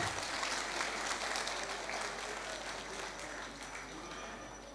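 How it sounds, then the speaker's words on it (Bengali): An audience applauds steadily through the inauguration of a cultural evening, a dense, even patter of many hands that stays fairly soft and distant and fades slightly toward the end. "একটু জোরে হাততালি হয়ে যাক"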